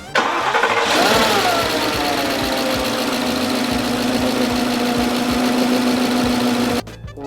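A Porsche engine turns over, catches and settles into a steady, loud idle, running continuously close by for several seconds before cutting off abruptly.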